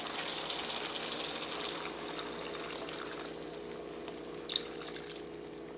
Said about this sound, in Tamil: நான் வந்து கொஞ்சம் தண்ணி ஆட் பண்ணிக்க போகிறேன்